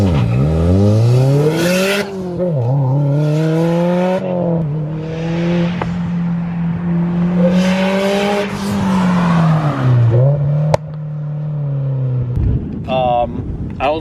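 A 2018 Subaru WRX STI with an Agency Power catback dual exhaust revs repeatedly, its aggressive note climbing and falling in several loud pulls and a sustained high-rpm hold, followed by a brief drop and a sharp pop near the end.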